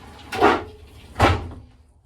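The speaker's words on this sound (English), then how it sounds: "That's the shower. Connects and closes up. You see the doors." Doors on a two-person shower inside a Sandpiper 372LOK RV close in two quick, fairly loud knocks about three quarters of a second apart, each with a short rattling thud, and no talking.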